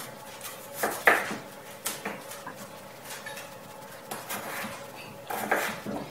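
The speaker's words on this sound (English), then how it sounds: "So I'm just going to slice it up." A knife slices a potato against a cutting board while making oven-baked poutine, giving a few scattered taps and clicks of the blade, fairly close, with light kitchen clatter in between and no talking.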